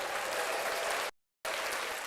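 Dense, steady applause, a continuous wash of clapping broken by a brief silent gap before resuming.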